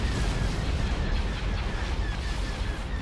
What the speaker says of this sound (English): Direct fire and then laser cannons.